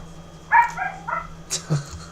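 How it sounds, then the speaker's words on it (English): A small dog gives a few short, high barks and yips nearby, spaced out over a quiet background with a faint steady hum. "I like the little barking in the background."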